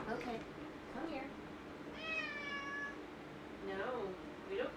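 A house cat meows nearby: a clear drawn-out meow in the middle, with softer, shorter mews before and after, over faint room noise while a person talks quietly.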